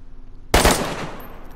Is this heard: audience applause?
no